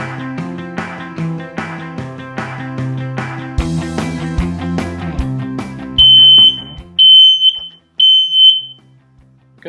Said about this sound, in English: It's a smoke detector.